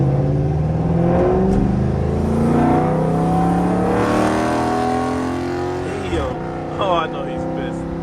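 A loud 400-plus horsepower Dodge Charger R/T roars steadily as it drives past, its deep exhaust note swelling and then fading, with a sharp shift in tone near the end and a voice talking over it.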